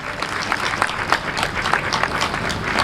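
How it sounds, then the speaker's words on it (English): Audience applauding dancers at a formal Nigerian event: steady, dense clapping with a low crowd rumble, moderately loud and continuous from start to finish. "Can we please give them a sound round of applause?"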